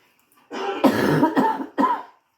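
A person coughs in a short burst of three or four harsh, close coughs, the first ones running together and the last one separate, with no talking around them.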